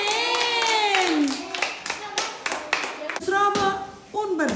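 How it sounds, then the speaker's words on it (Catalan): Clapping from a first-grade class at a school magic show, a cluster of sharp hand claps in the middle, with children's excited voices and shrieks before and after. "un aplaudiment"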